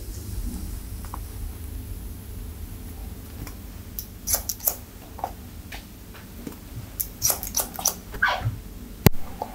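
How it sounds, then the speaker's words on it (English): Scissors snip through hair during a haircut, with crisp irregular clicks that start sparse and quiet and then come in faster, louder clusters near the end, close to the listener in an otherwise quiet room. "How does it feel to hear the scissors cutting all the hair off?"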